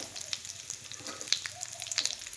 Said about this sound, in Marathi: थोडी थोडी खारीक करून मी ती चांगली भाजून घेणार आहे